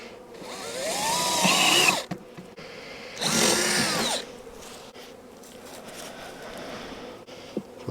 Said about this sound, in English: Got a drill. Got to make sure we have a hole in each one.